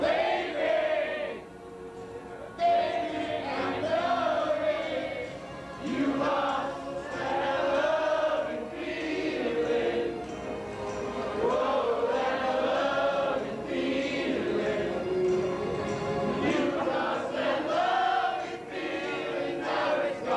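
A group of men at a wedding reception sing a verse of the Top Gun song together, loud and sustained, their voices blending in an energetic chorus that carries straight through with a few brief dips.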